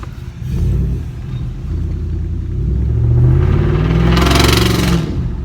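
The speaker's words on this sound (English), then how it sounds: "When you rev it, it's so much louder," A 2015 Ford F-150 with a 5.0 V8, muffler and resonator removed, rumbles at idle and then revs up into a loud, deep, rising roar before easing off, heard close with no talk.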